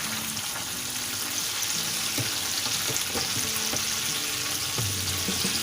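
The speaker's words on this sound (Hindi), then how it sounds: "तकरीबन 10 मिनट हो गए हैं इसको फ्राई होते हुए" Albaik-style chicken pieces frying in hot oil, a steady close hiss and crackle with occasional faint stirring clicks, no voices.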